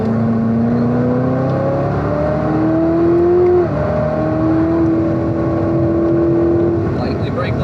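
Chevrolet Corvette C7 ZR1 on a racetrack, a loud in-car engine note climbing steadily under acceleration, dipping briefly with a downshift, then pulling up again, with an instructor's voice underneath.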